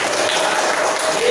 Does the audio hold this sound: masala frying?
no